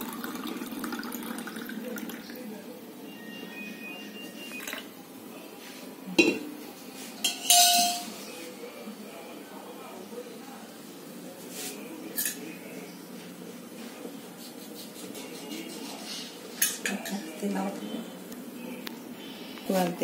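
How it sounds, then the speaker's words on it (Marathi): Homemade lemonade poured into a glass over ice, a short clinking and splashing burst midway among kitchen glass and dish clatter, with someone talking over it. "झाला लिंबू सरबत बनवून घालून आता ह्याच्यात ओतते।"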